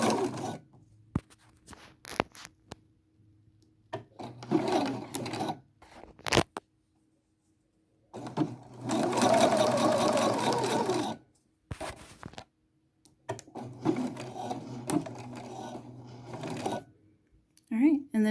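Home sewing machine running bursts of stitching along pajama seams, a couple of short runs and one long steady whir, close and fairly loud, with pauses and some talking in between.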